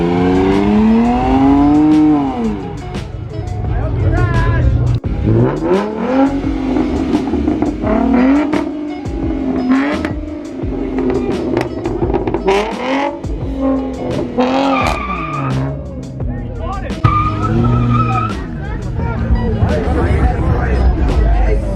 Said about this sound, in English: buddy did a burnout